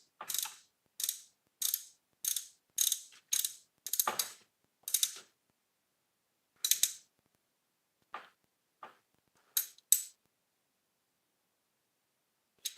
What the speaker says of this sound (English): I'm going to use the triple square to tighten.